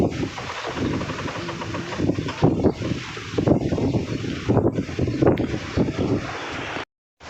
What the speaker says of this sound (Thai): ว่าฟังเสียงลมน้ำกันพี่น้อง